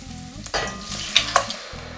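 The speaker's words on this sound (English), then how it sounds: "I'm going to use a spoon a little bit to kind of mush them down a little bit and just help the process" A spoon mashing anchovy fillets sizzling in a pan for pasta sauce, a close steady sizzle broken by a few sharp scraping clicks of the spoon against the pan.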